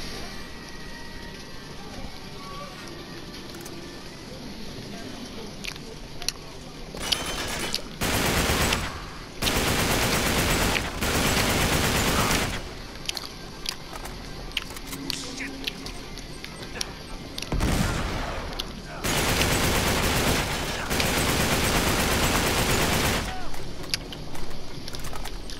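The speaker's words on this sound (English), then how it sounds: "I'm getting shot at." Enemy gunfire in the video game Uncharted 3, with long bursts of loud rapid automatic fire and clattering impacts over a low ambient bed, broken by quieter gaps.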